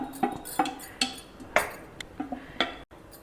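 A spoon clinks against a pot as cream, milk and ghee-sautéed grated apple are mixed for apple rabdi, giving about eight sharp, evenly spaced metallic taps over soft scraping.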